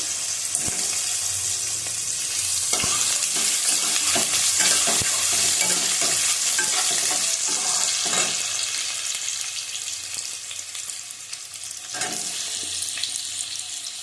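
Pumpkin and potato pieces frying in a pan for a curry served with khichuri, a loud continuous close sizzle with repeated clattering stirs and scrapes of a spatula, no voices.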